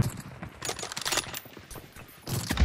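Bursts of video game gunfire crackle out in short sharp volleys, with a couple of separated shots and a final quick flurry.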